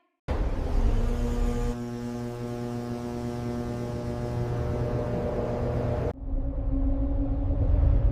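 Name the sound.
jet engine starting up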